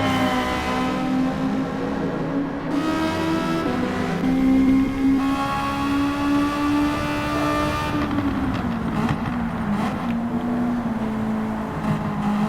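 Race car engines in a racing video game, a loud, continuous droning whine that rises and falls steadily as the cars run together, with no talking over it.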